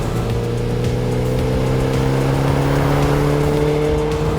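A Porsche 944 Turbo pulls hard under acceleration, its engine droning loudly and steadily with pitch creeping upward as it builds speed.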